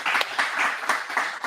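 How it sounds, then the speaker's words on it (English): Group applause for a volunteer who set things up, steady dense clapping from a small gathering with slight swells throughout, fairly close. "applause for Ben for getting this all set up"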